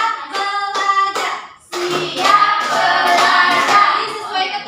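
Schoolchildren in a classroom clap out a rhythmic counting game, bursts of several quick claps in patterned groups, close and lively, with a teacher's voice calling between them.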